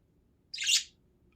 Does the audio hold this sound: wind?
no